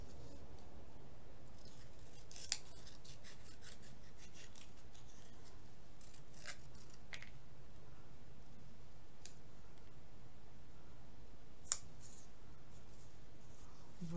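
Scissors cutting foam in small, quiet snips and scrapes with a couple of sharper clicks, close by against a faint background hiss.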